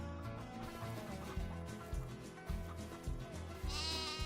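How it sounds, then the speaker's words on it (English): Sheep and goats bleat repeatedly in Farming Simulator 25, a steady chorus of overlapping calls from a homestead pen, with a few louder cries standing out over a constant rustling farm background. "And over here we have our sheeps and our goats."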